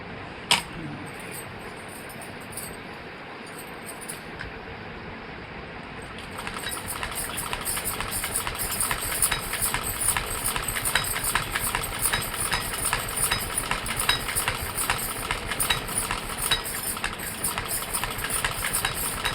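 Sewing machine stitching curtain fabric with a double line of stitches: a quieter whirr first, then a steady, fast mechanical chatter of the needle running continuously up close, with no voices.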